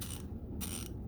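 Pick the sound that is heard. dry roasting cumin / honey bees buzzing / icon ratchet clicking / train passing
icon ratchet clicking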